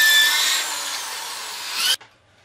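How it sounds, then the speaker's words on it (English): A power drill whines steadily as it bores a hole through the center of a wooden crossbow bow for about two seconds, then cuts off abruptly, leaving near silence. "we're going to drill a hole right through the center of the bow"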